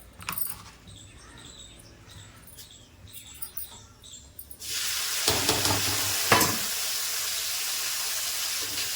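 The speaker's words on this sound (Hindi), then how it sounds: "गोभी आलू की सब्ज़ी मैं फ्राई करके बनाऊँगी" Cauliflower and potato curry hits hot oil about halfway through, bursting into a loud, steady sizzle with a few sharp spatters, after a quieter stretch of faint kitchen clatter.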